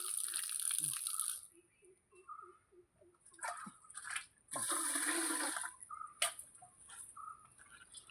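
Raw rice for a traditional payasam is washed in water in a home kitchen: intermittent bursts of rushing, splashing water alternate with quieter gaps and small clinks, close and fairly loud, with no talk.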